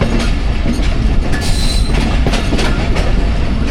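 Train at Dina railway station in Pakistan, wheels clattering and rumbling loudly on the rails with rhythmic clicks and a brief metallic squeal, steady throughout without talk.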